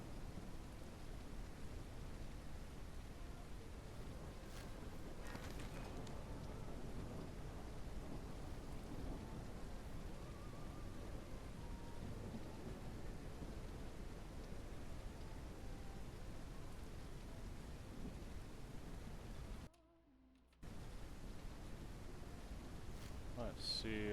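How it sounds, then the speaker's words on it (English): Rain with rolling thunder in the Noble Legacy video game, a dense steady hiss of rainfall with low rumbles, continuous and fairly loud, briefly cutting out near the end. "We got rain."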